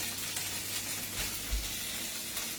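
Sweet potato gnocchi brown in a pan with a soft, continuous sizzle and frying crackle, close but fairly quiet, with a couple of low bumps as the pan is moved.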